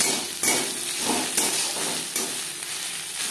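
Spices with ginger paste fry in a pan for a fish curry, giving a dense, loud sizzle broken by a few sharp scraping strokes of a stirring spoon.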